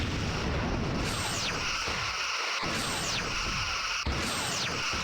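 Repeated torpedo blasts in Star Trek: Bridge Commander, three loud booming bursts about a second and a half apart, each with a falling whoosh, over continuous dense rumble.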